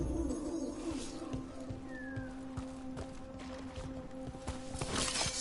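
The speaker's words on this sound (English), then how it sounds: "Another owl. Hoo! Hoo hoo hoo!" Owl hooting in the fantasy video game Dragon Age: The Veilguard, soft repeated hoots set within steady game ambience and music.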